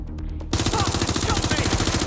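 Gunfire in the video game Watch Dogs Legion, with a dense rapid burst of automatic shots, loud and continuous, following a brief stretch of lighter pops.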